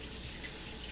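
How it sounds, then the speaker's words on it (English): Hands rinsed under a running kitchen water tap while baking coconut macaroons, a steady, close splashing hiss of flowing water filling the whole short moment with no voices. "Rinse my hands off real quick."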